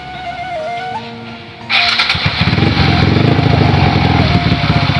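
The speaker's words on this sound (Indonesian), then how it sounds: "Nah, ini idle-nya sangat lembut sekali ya. Ini enggak seperti motor balap." A Kawasaki KLX motorcycle fitted with BRT parts starts up after a quieter lead-in and settles into a smooth, even idle, recorded close and loud with a steady low pulsing rumble.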